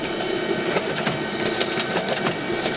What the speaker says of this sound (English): So you're using the color printer and we need it.